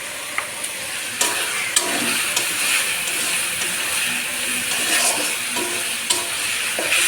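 Fish curry with turmeric, salt and spices sizzling and frying in a pan, with a steady close hiss and a spoon scraping and tapping the pan as it is stirred, and no talking.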